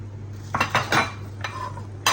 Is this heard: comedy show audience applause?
no